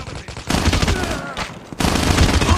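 Rapid automatic gunfire rattles in a Call of Duty Mobile match, loud bursts broken by a short lull, with players talking over it.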